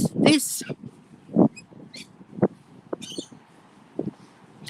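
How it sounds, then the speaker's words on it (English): A rainbow lorikeet gives sharp, raspy squawks in a few separate bursts against a rough seaside background, with other faint chirps scattered between them. "that was a rainbow lorikeet squawking."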